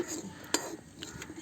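Faint clinks and scrapes of metal utensils against pots and pans while cooking on a stove, with one sharper clink in the middle of a quiet kitchen background.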